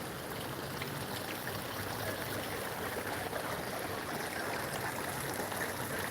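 Water trickles and splashes steadily from fountains at a garden nursery, a constant close wash of running water with no voices.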